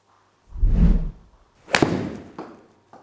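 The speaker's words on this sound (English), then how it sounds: "Start with an 8-iron. Let's hit a couple shots." An 8-iron strikes a golf ball on a practice range in one sharp, close crack, preceded by a softer thump and followed by a brief fading whoosh.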